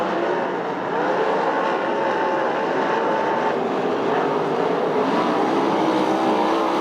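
USAC/CRA sprint cars roar at Perris, California, a loud sustained engine drone from several cars racing together off a turn, steady and close for the whole stretch with no talk.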